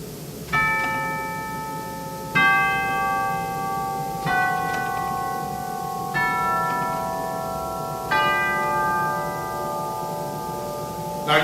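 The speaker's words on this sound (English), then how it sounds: "These lovely chrome tubes are actually tubular chimes, and that's a very important part of the organ." Chrome tubular chimes on a pipe organ, each struck by a valve-triggered hammer, ring out in five bright, bell-like strikes about two seconds apart, every tone sustaining and overlapping as it fades, clear and fairly close.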